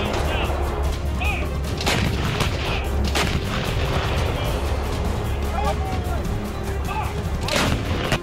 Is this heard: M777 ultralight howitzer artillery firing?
yes